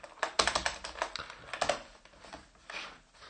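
Typing on a computer keyboard while writing program code, a quick close-up flurry of clattering keystrokes in uneven bursts with a short pause before a final run.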